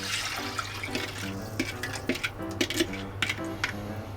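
A prepared sauce pours into a hot pan. Splashing, gurgling liquid rises over a faint background hum, with several brief surges as it lands and spreads.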